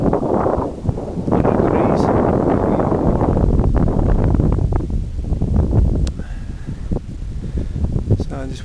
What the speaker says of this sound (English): Wind switched round.